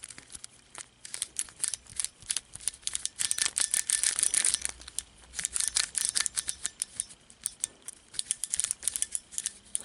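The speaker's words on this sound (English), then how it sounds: "that clicking mechanism." Rapid dry clicking and ratcheting from a cheap 1980s keychain whip-it toy with a ball-bearing clicking mechanism, close and busy, in uneven bursts that swell in the middle before thinning into scattered clicks.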